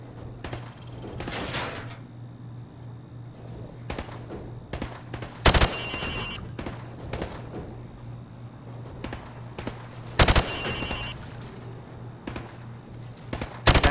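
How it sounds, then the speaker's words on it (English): Rifle fired from the hip at range targets in Call of Duty Modern Warfare Remastered: loud, sharp gunshots in scattered single shots and short bursts, with pauses between, over a low steady hum. "Now, shoot at the targets while firing from the hip."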